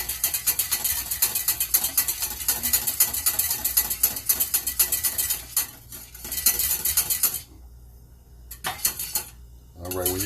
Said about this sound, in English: once that mixture comes up to get hot, just want to keep stirring it